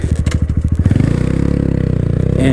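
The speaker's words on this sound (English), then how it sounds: "I'm going to try shifting through the gears a little bit, have some fun doing some one-handers and some stand-ups." A Honda Grom motorcycle engine pulses in a rapid throbbing idle that rises as it shifts through the gears, loud and close, with a brief rev at the end.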